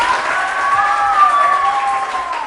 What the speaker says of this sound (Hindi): इस बात पे तालियां होनी चाहिए।